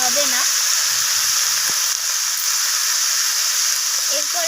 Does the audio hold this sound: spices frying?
yes